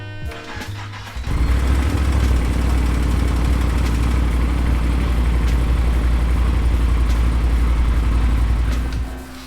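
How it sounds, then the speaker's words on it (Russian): A motorcycle engine cranks and fires after a moment, then settles into a steady, close, loud idle as it warms up after an oil change. "завожу мотоцикл, прогреваю"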